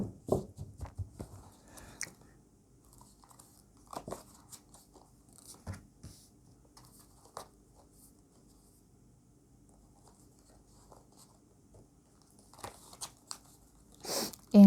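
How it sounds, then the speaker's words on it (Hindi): Tarot cards drawn from a deck make faint, scattered rustles and soft slaps of card handling in an otherwise quiet room, with a louder flurry of shuffling near the end. "हम कार्ड्स निकालते हैं।"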